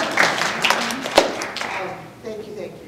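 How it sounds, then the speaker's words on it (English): A conference audience applauds after a speech, with a short burst of clapping quickly fading as a voice begins talking over it. "I wish I got that sort of applause every time I got up to speak."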